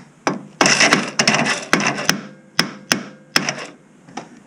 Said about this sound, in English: So we tried the trick hammering the starter.